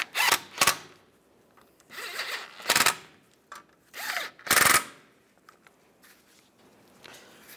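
Wheel speed sensor bolts are snugged down on a 1995-2001 Ford Explorer, heard as several short, faint bursts of a whirring driver, spaced apart with quiet pauses, nearby and without talk.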